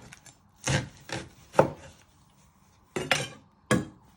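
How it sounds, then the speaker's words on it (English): A knife chops the end off an onion on a wooden board: several sharp, close knocks in uneven succession with quiet gaps between, and no voices. "You chop the other end off."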